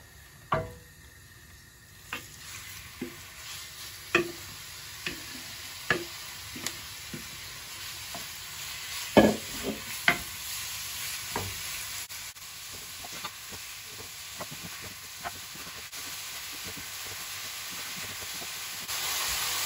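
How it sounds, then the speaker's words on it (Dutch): Chicken fries in hot oil in a pan for homemade chicken rolls, a continuous soft sizzling hiss punctuated by regular sharp crackles and pops, close-up with no talking. "Ik ga nu mijn kip bakken."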